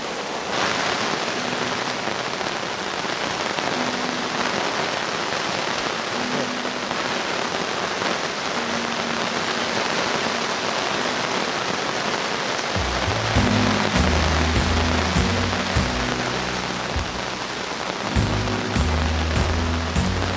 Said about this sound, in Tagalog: Okay lang yung ganyang klaseng ulan eh, huwag lang yung sobrang lakas.